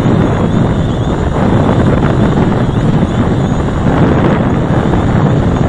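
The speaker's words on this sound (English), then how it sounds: "Mavic is pretty much fighting the wind here." Strong wind in extreme cold buffets the microphone during a Mavic Pro drone flight, a loud, continuous, rushing roar with no letup across the whole stretch.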